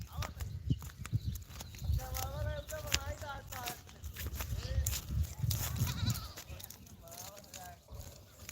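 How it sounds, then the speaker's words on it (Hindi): Goats grazing on a farm bleat several times in wavering cries, some close and some farther off, while people talk nearby and footsteps shuffle. "बकरी चरती हैं"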